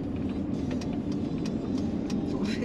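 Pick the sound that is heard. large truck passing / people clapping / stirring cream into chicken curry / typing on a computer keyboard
large truck passing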